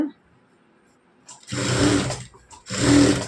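After a quiet, faint-voiced start, a sewing machine sews side stitches on a normal blouse in two loud, whirring runs, each under a second, separated by a brief pause.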